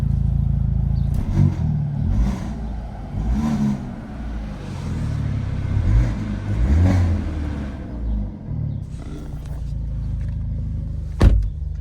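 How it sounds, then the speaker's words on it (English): A Hyundai Elantra N engine runs steadily at close range after starting, with a constant low rumble and several swells of revving spread across the clip, no talk over it. "I'll start the car for you."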